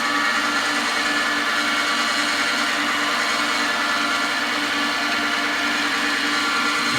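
A skew chisel cuts wood on a spinning lathe, a steady, even whirring hum with a smooth shaving hiss, continuous and close with no pauses.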